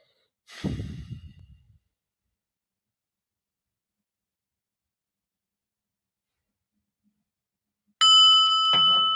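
A single slow, deep breath drawn in and let out close by, followed by a long silence and then a bright ringing bell-like chime near the end.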